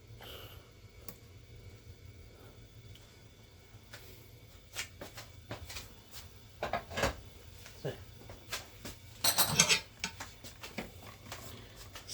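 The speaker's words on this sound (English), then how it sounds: "you're going to whisk them up until they form soft peaks" Egg whites being whisked toward soft peaks for a toffee apple pavlova, with irregular clattering taps and scraping against the bowl that grow louder and busier near the end, under some background noise.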